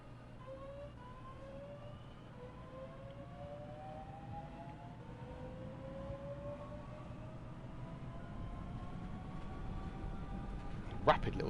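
A Class 465 electric train pulls away in Train Sim World 2, its traction motors whining in steadily rising tones over a constant low rumble, with a faint click near the end.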